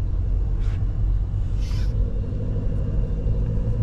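Car engines idle in stopped road traffic, making a loud, steady low rumble close by with a couple of brief higher hisses over it.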